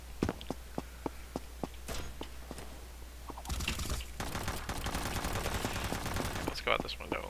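Sniper rifle shots fired without scoping in the shooter game Combat Master, a run of sharp evenly spaced cracks followed by dense rapid gunfire and clatter.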